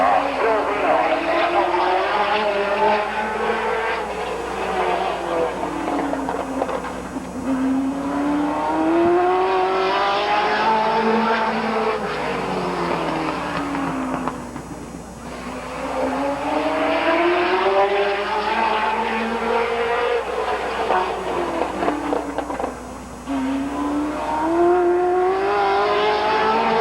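Race cars roar around a 1988 speedway track with long rising and falling engine sweeps as they pass, loud and continuous, while an announcer talks over the PA throughout.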